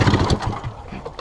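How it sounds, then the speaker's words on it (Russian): A snowmobile engine runs with a rough, buzzing mid-pitched drone in a brief burst. It is close and strongest at the start, then eases slightly. "Снегоходный мотор."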